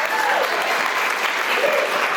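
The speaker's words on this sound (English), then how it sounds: "I'd like to give Kirsty's parents a massive round of applause for having amazing genetics." Wedding guests applaud the bride's parents at a reception, a dense, steady round of clapping from a crowd filling the room, close and loud throughout.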